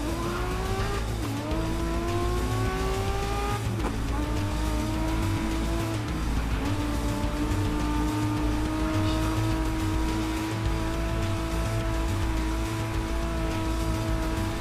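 A BMW M1 race car in GRID Legends drones steadily near and loud, its engine pitch climbing and dropping sharply at gear shifts and rising again as it accelerates, with tires squealing through corners.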